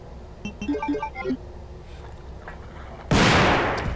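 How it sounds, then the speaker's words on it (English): Upgraded shotgun firing at lickers in the video game Resident Evil 2, a single loud close blast near the end with a decaying roar, preceded by a short rising electronic chime melody. "I love that upgraded shotgun"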